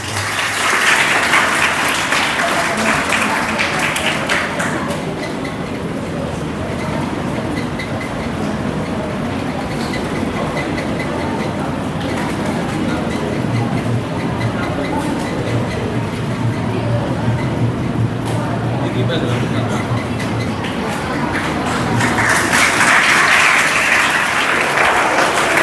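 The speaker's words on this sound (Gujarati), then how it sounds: "ત્યારે જોરદાર તાળીઓથી આપણે એને વધાવીએ." Loud, sustained applause from a crowd at an honouring ceremony in Umrala village, a dense roar of clapping that swells at the start, eases a little in the middle, and rises again at the end.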